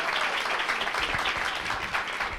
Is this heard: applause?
yes